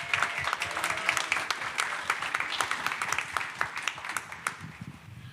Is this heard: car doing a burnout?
no